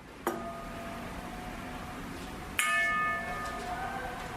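A metal lamp struck twice, each hit followed by a long ringing, gong-like tone with sustained harmonics; the second hit is louder and rings on to the end.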